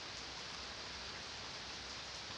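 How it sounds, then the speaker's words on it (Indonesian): Heavy rain falls steadily, a dense, even hiss of drops on surfaces that continues unbroken throughout, with no voices. "Di sini sedang terjadi hujan walaupun deras ya saudara-saudaraku."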